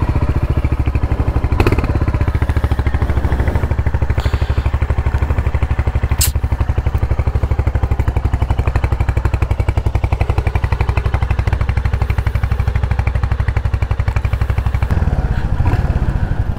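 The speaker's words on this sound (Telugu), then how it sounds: "Bobba silencer sound." A motorcycle idling loudly up close with an aftermarket silencer exhaust, a fast, even, thumping chug that runs steadily throughout with a few sharp clicks and no voices.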